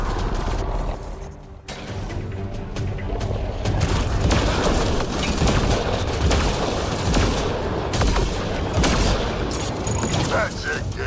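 Grenade blast and gunfire in the video game Mass Effect: Andromeda, a dense, loud, continuous roar of booms and rapid shots with voices calling out over the combat.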